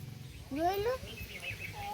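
A single clear meow from a cat, close and fairly loud, with faint background voices and a softer second mew near the end.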